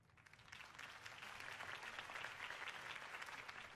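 Steady crowd applause from a campaign rally audience in Batman: The Telltale Series, dense clapping that swells slightly and holds loud and continuous throughout.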